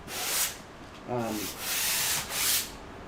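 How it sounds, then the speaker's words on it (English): A sanding block rubs across a stretched painting canvas being prepped, giving soft broadband scraping strokes in a few bursts, with a brief voice in the middle. "So just be careful with a sanding block, but more than welcome to use that."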